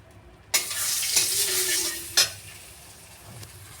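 Butter heating in a kadai, a sudden hissing sizzle that starts abruptly, holds for under two seconds with a faint tonal whine, then cuts off to quiet.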